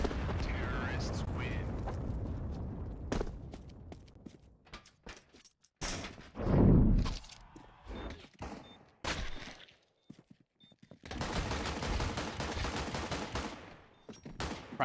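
Gunfire crackles in a Counter-Strike pistol round, with bursts of rapid shots, sharp single cracks and a loud boom amid stretches of quiet, while commentators talk over parts of the action.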